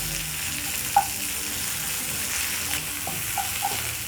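Vegetables for a chapati rolex sautéing in a pan, a soft steady sizzle with a few faint clinks of a utensil.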